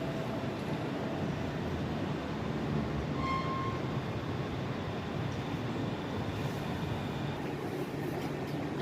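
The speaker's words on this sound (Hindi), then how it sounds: "ये ट्रेन का था।" A train passing through Den Haag Centraal station in the Netherlands, heard as a steady broadband rumble that holds for the whole stretch, with a brief high squeal partway through.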